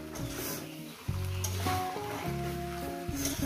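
Fish oil and roe from catla fish fry in a pan with loud, steady sizzling and occasional stirring, close up and with no voices.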